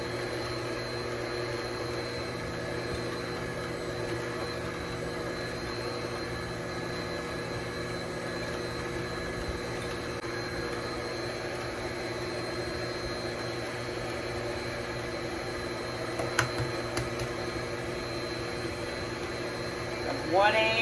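Electric mixer beating flour into lemon zest cream cheese pound cake batter, a steady even whir running throughout at moderate level, with a few faint clinks near the end.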